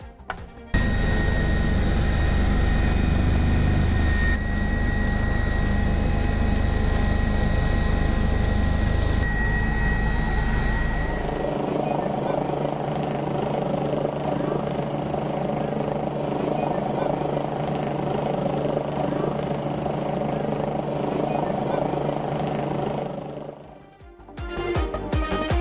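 A police helicopter hovers over a building fire rescue in Lima, its loud, steady rotor roar filling the whole stretch. The sound shifts in tone partway through and cuts off near the end.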